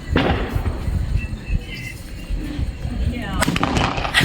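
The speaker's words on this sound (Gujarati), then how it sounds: "ભારત જીતી ગયું છે એટલે ફટાકડા બધા પોડ નાખી" Firecrackers burst repeatedly in an outdoor celebration of India's cricket win, sharp cracks and bangs scattered over a noisy crowd, with voices talking and cheering throughout.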